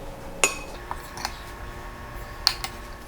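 A spoon stirs In-N-Out spread sauce mixed with distilled vinegar in a bowl, making a few sharp metallic clinks against the dish, spaced irregularly, with faint scraping between them.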